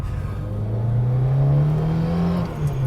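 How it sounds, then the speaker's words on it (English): Lancia Hyena with a whistling turbo: the engine drones loudly from inside the car, its pitch climbing steadily as it pulls, then easing off near the end. "Little whistling turbo."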